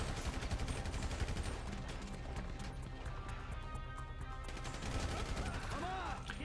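Police gunfire in Grand Theft Auto 5 crackles in rapid bursts of shots amid a busy game soundscape, with a few sharp ricochet-like tones and a voice talking faintly.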